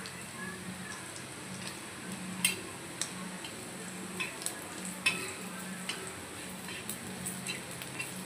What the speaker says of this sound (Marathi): खोबरं छान असं लालसर आपल्याला भाजून घ्यायचं आहे।